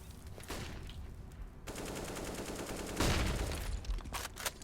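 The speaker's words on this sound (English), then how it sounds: "That nade will do so much damage collectively on 3 players." Grenade blast in a Counter-Strike: Global Offensive match, a rumbling burst amid a clatter of rapid gunfire, loud and dense through the whole stretch, with no voices.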